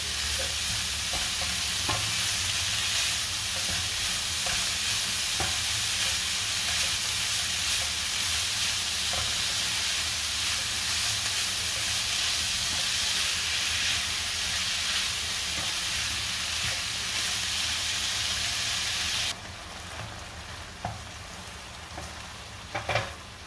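Ground beef frying in a pan for beef shakshuka sizzles loudly and continuously with occasional stirring clicks, then the hiss drops sharply near the end as the heat fades. No talking.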